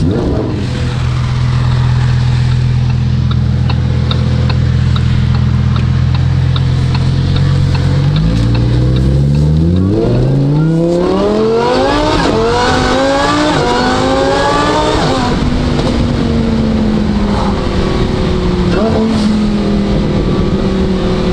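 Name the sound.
Lamborghini Huracan Evo with aftermarket exhaust revving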